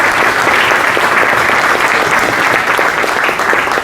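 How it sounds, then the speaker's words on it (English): Loud, steady applause from a conference audience at a consulting conclave at XLRI Jamshedpur, welcoming a panelist to the stage; dense, continuous clapping fills the whole stretch without a break. "Varun Sadhi with a huge round of applause"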